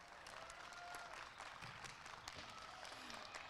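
Audience applause at an archery tournament's indoor finals, a dense steady wash of many hands clapping across the whole moment, with a faint voice briefly underneath.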